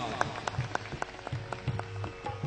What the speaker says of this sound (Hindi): आप सभी जोरदार तालियों के साथ अभिनंदन करेंगे।